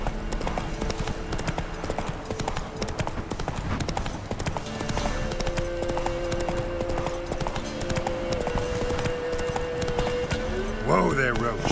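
The horse Roach gallops in The Witcher 3, steady clip-clopping hooves running throughout against game ambience, with a brief rising whinny-like sweep near the end.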